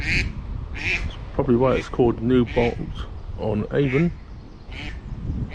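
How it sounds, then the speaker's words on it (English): A mother duck by the River Avon quacks repeatedly in loud, rhythmic bursts nearby, while someone speaks over the calls outdoors. "A very noisy mother duck down here"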